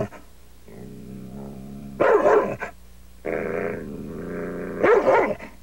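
A dog barks and growls in a French windscreen-repair advertisement, two loud bursts of barking separated by lower growling, close and clear with no talk over it.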